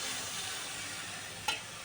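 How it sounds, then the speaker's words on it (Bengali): Water poured into a pan of frying beef tripe curry sets off a steady broad sizzle and hiss, with a brief louder burst of spatter near the end. "এখন আমি পরিমাণ মতন পানি দিয়ে দিচ্ছি"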